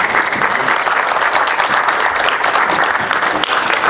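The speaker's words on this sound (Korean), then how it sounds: "좋은 발표해 주신 우리 박수철 전 무관님께 다시 한번 박수 좀 보내주십시오" A dense, steady burst of applause from a seminar audience, loud and sustained with no pauses.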